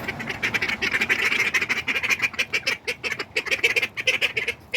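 A backyard flock of ducks on a warm rainy day, continuous loud overlapping quacking and honking calls close by, many birds chattering at once.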